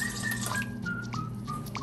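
Water is poured into a homemade spray repellent for puppy urine, giving a steady trickle with light drips and a rising, whistle-like pitch as the container fills.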